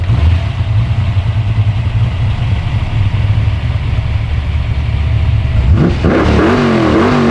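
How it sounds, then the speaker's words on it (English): A 1965 Ford Mustang engine running at idle, a loud steady low rumble close by, then a sharp rev that climbs in pitch near the end. "How about I turn her on and show you exactly what it sounds"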